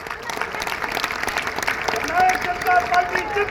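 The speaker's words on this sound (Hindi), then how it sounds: "एक बार इनके लिए जोरदार तालियां बजाएं" A crowd at a JJP political rally in Julana, Haryana, breaks into applause for the district presidents, a dense stream of clapping that swells toward the end while a voice carries over it.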